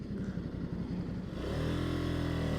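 A 2020 Ducati Scrambler Sixty2 motorcycle engine idles with a grunty rumble, then revs up sharply and holds a loud, steady drone, heard close with no voices.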